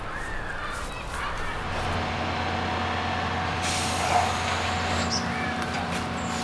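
A refuse lorry idles nearby with a steady low engine drone, and a hiss of air brakes rises midway. Crows caw faintly in the background.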